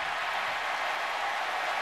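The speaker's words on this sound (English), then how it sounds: "has given the hometown crowd something to cheer about" A home crowd at a Nebraska Cornhuskers college football game roaring after a made 41-yard field goal, a steady dense wash of cheering and applause throughout.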